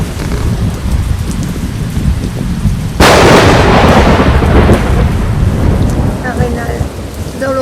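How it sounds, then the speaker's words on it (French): Heavy rain roars steadily during a thunderstorm at Arenal, Costa Rica, with a loud burst of thunder crashing in midway and rumbling on under the downpour. "Arénal, dans l'orage."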